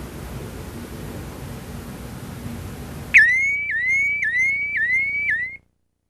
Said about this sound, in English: we should be getting an alarm shortly